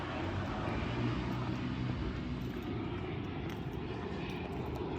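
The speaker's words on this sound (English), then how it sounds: "a plane just coming in" A plane comes in overhead near Plaza de España in Ibiza's old town, its engine a steady broad roar that holds loud and unbroken for the whole stretch, with no voices.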